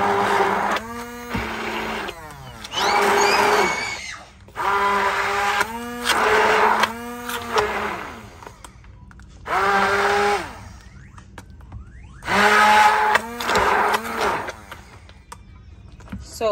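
A blender purées baby food of beets, potato and chicken, its motor whirring loudly in repeated bursts of a few seconds each, separated by short pauses with a low background hum.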